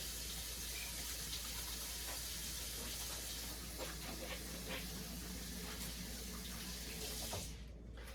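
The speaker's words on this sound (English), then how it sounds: "I'm going to actually give my hands a quick wash" Hands being washed under a running kitchen tap, a steady close hiss of flowing water with soft splashing, ending as the water is shut off.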